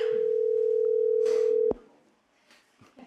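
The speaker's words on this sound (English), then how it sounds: "This is a phantom ringing that happens." A steady electronic telephone tone from a robocall sounds through a hearing room's phone line, holding for about a second and a half before cutting off abruptly, followed by quiet room noise.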